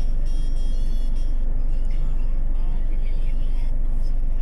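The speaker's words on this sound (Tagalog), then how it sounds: "Grabing traffic, oh, tingnan mo." Heavy road traffic with cars, buses and trucks crawling nearby on a city road, a steady dense engine rumble and hiss that fills the whole moment, with faint voices underneath.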